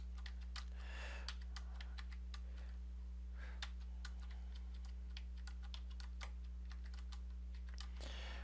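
Fast, light keystrokes clatter on a computer keyboard as spreadsheet data is entered, a continuous close patter of taps over a low steady electrical hum.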